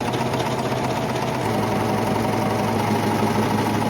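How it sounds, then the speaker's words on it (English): A serger running steadily while stitching a rolled hem along the raw edges of scrunch-textured thrifted fabric, a continuous close mechanical whir and hum with no pauses and no talk. "Now I'm going to use my serger and I'm going to go around all of these raw edges using my rolled hem setting"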